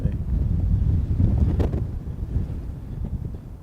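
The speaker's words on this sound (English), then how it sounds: "it gives you an idea of just how breezy it is" Strong outdoor wind roars and buffets the microphone at a spot in Harewood Road, a dense low rumble that never lets up for the whole clip.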